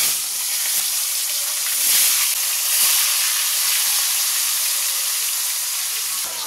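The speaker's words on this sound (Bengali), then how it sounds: "কড়াতে আমার তেলও গরম হয়ে গেছে। চলো মাছগুলো ভেজে নিই।" Katla fish pieces, already rubbed with salt and turmeric, frying in hot oil in a wok, giving a steady, close, bright sizzle with soft hissing that swells slightly a couple of times, with no voices.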